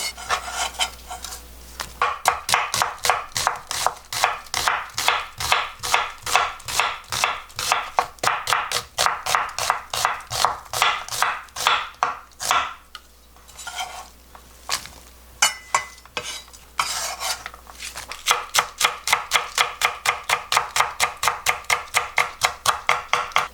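A knife slices an onion into strips in a steady, rapid rhythm of sharp strokes on a cutting board, pausing briefly midway before resuming, with no talking.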